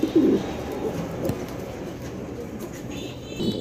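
Pigeons coo softly in a collection of paired birds, a low throaty burble near the start and again at the end over steady background hum.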